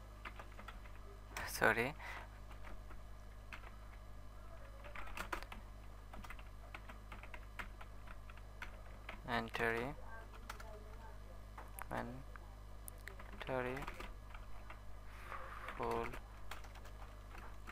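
Keys clatter on a computer keyboard in short bursts separated by pauses, quiet and close over a steady low hum, with a few brief words spoken.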